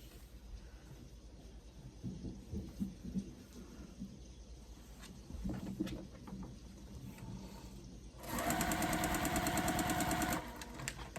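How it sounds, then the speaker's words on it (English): A domestic sewing machine stitches fabric strips end to end for quilt borders, its fast, steady needle rattle running loud and continuous for a couple of seconds after quieter handling noises. "these are with the fabric strips I gotta sew end to end for the borders"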